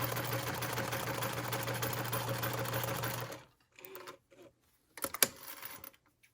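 A sewing machine runs a steady quarter-inch seam through pieced quilt quadrants, loud and continuous for about three seconds before stopping, followed by a few light handling clicks and rustles.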